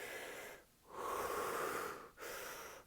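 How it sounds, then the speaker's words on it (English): Rapid hyperventilation breathing exercise performed lying down: close, loud breaths in and out with barely any pause, the airy rushing broken only by two brief gaps. "You lay down and you basically hyperventilate. You breathe without taking breaks in between."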